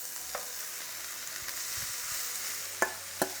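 Soy curls sauté in olive oil in a pan, giving a continuous hissing sizzle with a couple of sharp utensil clicks toward the end, no voices.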